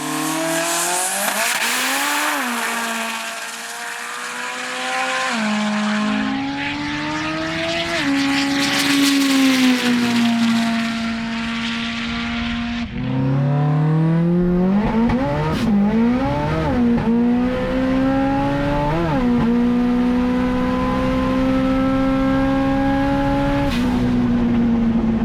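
A turbocharged Subaru drag car with a custom automatic transmission runs at an airport drag strip, its loud engine rising through the revs with sharp gear changes and sustained high-pitched turbo whine, close and dominant.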